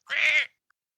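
A human voice imitates a cat singing with one drawn-out, tonal meow lasting about half a second, close and clear, followed by silence.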